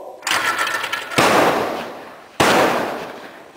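Three loud shotgun blasts at clay targets boom outdoors, the first a little quieter, each followed by a long rolling echo that trails off.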